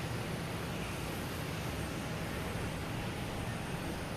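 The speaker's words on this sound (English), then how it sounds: "Yep, 4 left, quick takeoff." Airplane taking off from runway 4 left at Boston Logan Airport, a loud, steady broadband engine roar that holds throughout without letting up.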